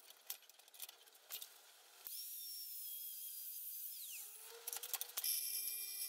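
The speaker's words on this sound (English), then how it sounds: "I'll remove the bulk of the material with an angle grinder before moving over to the bench grinder." A bench grinder whines steadily as a high-speed steel lathe cutter is ground into a parting tool, the tone sliding downward as the wheel loads, followed by lighter intermittent grinding contact and a ringing spin-down, with no talk.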